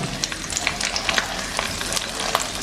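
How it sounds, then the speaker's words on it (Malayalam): Masala-coated hamour fish frying in oil in a pan, giving a dense continuous sizzle with frequent crackling pops throughout, close and fairly loud, no voices. "നമുക്ക് കുറച്ച് എണ്ണ ഒഴിച്ച് കൊടുത്തതിന് ശേഷം നമുക്ക് മസാല പുരട്ടിയത് നമ്മൾ മസാലയൊക്കെ പുരട്ടി ഫ്രൈ ചെയ്തെടുത്തത് പൊള്ളിക്കാനായിട്ട് വെക്കുകയാണ്"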